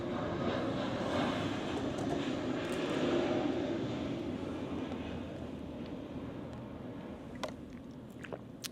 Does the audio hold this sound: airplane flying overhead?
yes